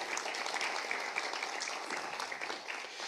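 A church congregation applauds during a Spanish-language sermon, a soft, distant, continuous patter of many hands clapping that holds steady for a few seconds.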